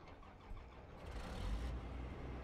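The engine of a John Deere S700 combine harvester in Farming Simulator 22 starts, cranking into a low rumbling idle that swells slightly and settles, heard alone at modest volume.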